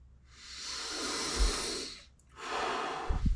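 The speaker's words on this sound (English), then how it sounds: "breathing." Two long, airy breaths, a drawn-out inhale-exhale lasting about two seconds followed by a second breath, close and alone with no talk.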